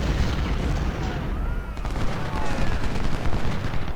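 Massed musket and cannon fire rolls through a Civil War battle in Ultimate General: Civil War, a dense crackle of overlapping shots with heavier booms, loud and continuous across the whole stretch.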